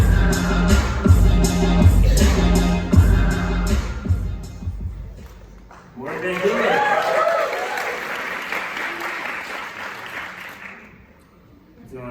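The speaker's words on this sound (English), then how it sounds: "So please make a round of applause for Cody QJ Goldberg." An audience breaks into loud applause for a speaker, first mixed with music and then continuing as dense clapping that gradually thins and fades.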